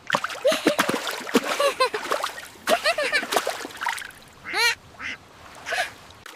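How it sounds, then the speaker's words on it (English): A cartoon duck in a 3D animation quacks repeatedly in nasal bursts amid splashing water, close by and fairly loud. "Quack splash!"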